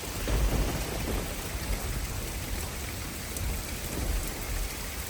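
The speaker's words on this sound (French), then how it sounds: "Et il y avait de l'orage tout autour." Steady, dense rain pours down during a mountain thunderstorm in Corsica, with hail mixed in and low rumbles of thunder swelling underneath; the downpour is loud and continuous, close around a small shelter, with no talking.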